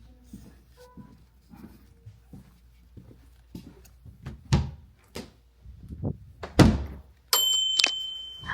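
An automatic door in a high-tech home gives scattered soft clicks and thumps that build to a couple of sharp knocks, then a steady electronic tone near the end.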